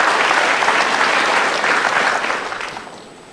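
An Indonesian motivational talk-show audience gives loud, dense applause, sustained for about two seconds and then tapering off as the clapping thins out.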